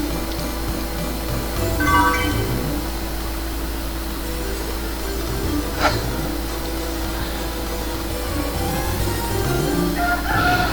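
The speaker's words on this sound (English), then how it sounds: "A chicken coop with a giant rooster in it." A giant rooster crows in a chicken coop in the video game Breath of Fire 3, synthesized calls and clucks rising over a droning game music bed, with a sharp burst midway.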